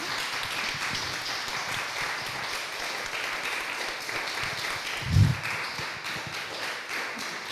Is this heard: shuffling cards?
no